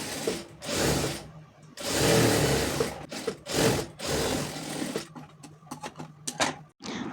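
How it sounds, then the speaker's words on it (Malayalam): A sewing machine stitches small pieces of baby frock fabric, running in loud bursts of a few seconds split by short pauses, then ending in quicker, choppier spurts and clicks. "ഒന്ന് സ്റ്റിച്ച് ചെയ്ത് കൊടുക്കുക കേട്ടോ"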